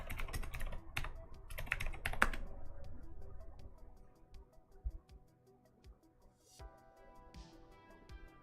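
Rapid bursts of computer keyboard typing clatter at the start, then thin out into scattered individual key clicks, with brief tonal beeps near the end.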